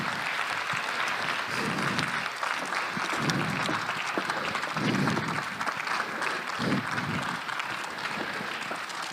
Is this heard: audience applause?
yes